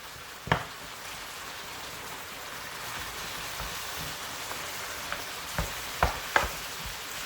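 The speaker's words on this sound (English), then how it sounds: "break up our beef as we go" Ground beef frying for goulash, broken up with a wooden spoon: a continuous close sizzle with several sharp knocks and scrapes of the spoon against the pan, no talk.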